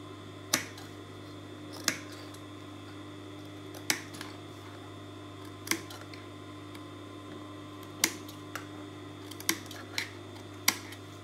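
Sharp scissors snip notches into a sewn fabric seam for a sweetheart A-line dress, giving crisp, isolated cuts roughly every two seconds and a quicker cluster near the end, close and alone over a faint steady hum.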